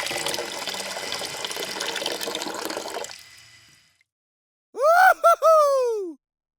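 Water from a toy pump pours steadily into a LEGO swimming pool, a loud gushing that fades out after about three seconds, followed by a brief groaning vocal sound.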